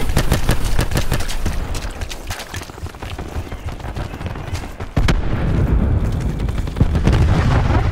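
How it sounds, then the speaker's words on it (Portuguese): Continuous battlefield noise from Call of Duty Black Ops 4, loud gunfire and booms throughout, with a sharp blast from a thrown flash grenade near the middle followed by dense, rumbling explosions. "Jogando granada de luz."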